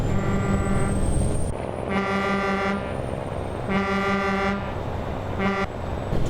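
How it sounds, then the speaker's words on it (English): A truck's air horn blasts in a trucking video game, three loud, sustained honks separated by pauses, with a faint tone running across the background. "I've not tried the horn, actually."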